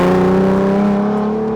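A 2001 Lamborghini Diablo 6.0 engine revs loudly and close, a steady harmonic roar rising slightly in pitch before easing back, with no voices over it.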